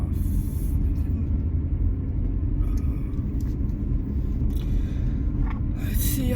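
A car driving along a road on a morning commute, a loud, steady low rumble of engine and tyres heard from inside the cabin, with faint rattles and a brief hiss near the end.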